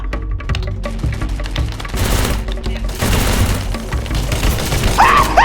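Rapid automatic gunfire bursts from a shooting video game, loud and close, with repeated stuttering volleys and booms building over the stretch while a voice talks over it.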